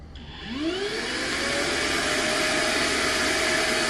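Suction motor of a Prolux PLCC430BN floor scrubber switching on, its whine rising in pitch over the first half second, then settling into a loud, steady airy roar with a sustained tonal hum, no talking.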